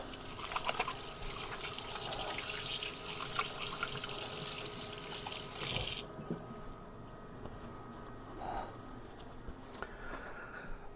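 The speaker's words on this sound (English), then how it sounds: "Let me rinse my hands off." Tap water runs steadily in a home kitchen as hands are rinsed, a broad continuous splash that stops abruptly partway, leaving quieter room noise and faint trickles afterward.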